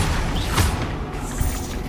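Explosive spell blasts in Hogwarts Legacy, a rapid series of booming magical impacts and crackling bursts over dense, continuous game combat noise.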